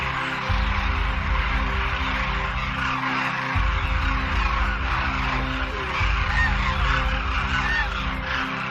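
Flock of demoiselle cranes (kurja) at their winter grounds in a Rajasthan village, calling continuously in dense overlapping honking cries that fill the whole stretch with no pauses.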